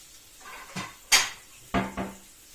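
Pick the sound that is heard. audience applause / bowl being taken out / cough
bowl being taken out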